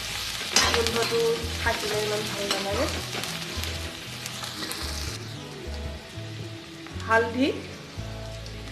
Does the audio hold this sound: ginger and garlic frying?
yes